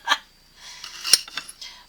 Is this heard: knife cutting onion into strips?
yes